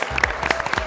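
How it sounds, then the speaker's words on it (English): An audience at a PAX East panel gives a brief burst of dense clapping that fills the room. "Round of applause for them."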